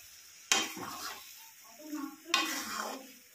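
A spoon scrapes and stirs curry that is being dried out in a pan, with two distinct bursts of metallic scraping and a gentle sizzle between them, close and fairly quiet.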